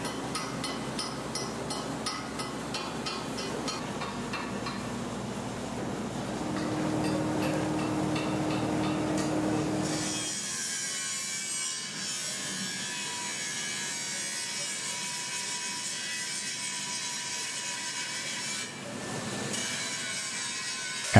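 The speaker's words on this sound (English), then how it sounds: "The casting is transferred to the blast cabinet, where it is treated with shot blast to remove any remaining sand from the casting." Shot blasting of a metal foundry casting inside a blast cabinet to strip leftover sand, a steady dense hiss and rattle of shot that shifts to a harsher, brighter blast partway through, continuous and close.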